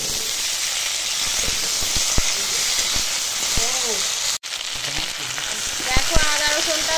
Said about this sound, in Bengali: পেঁয়াজটা হালকা ভাজা হয়ে গেছে, এবার আলুগুলো দিয়ে দিলাম।